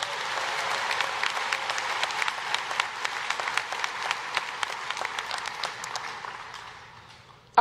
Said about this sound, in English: Please give a round of applause for Kobe.